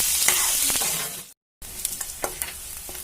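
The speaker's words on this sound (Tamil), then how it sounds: "கடலைப்பருப்பு உளுத்தம் பருப்புலாம் பொரிஞ்சிடுச்சு நல்லா" Chana dal and urad dal fry in hot oil for idli upma with a bright, dense crackling sizzle, broken by a short silent gap, then popping and spattering resumes in small bursts.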